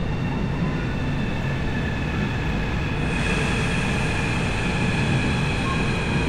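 Steady, loud rolling rumble and airy hiss inside a long Chinese high speed train running at speed, constant throughout with a slight lift partway, no talking.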